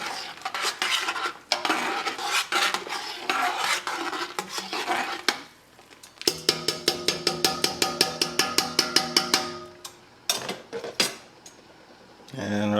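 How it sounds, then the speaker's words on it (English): Utensils clatter and scrape against a pan while stirring seafood pasta, a quick regular series of metallic taps in the middle, fairly close and moderately loud. "stir it up"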